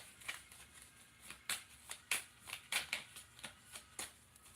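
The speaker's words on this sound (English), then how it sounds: "I'm shuffling." A deck of tarot cards being shuffled, a rapid run of crisp riffling flutters and snaps at a steady rhythm, close and fairly quiet, with no voice.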